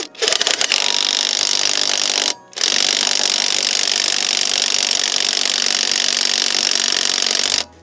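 A Parkside Performance PPDSSA 12 A1 cordless impact wrench hammers loudly and close up while tightening a wheel nut, in two long rattling bursts split by a short pause.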